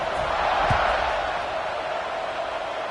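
A football stadium crowd roars steadily before a kickoff in a Florida State versus Florida game, a dense, sustained wash of cheering with no clear breaks.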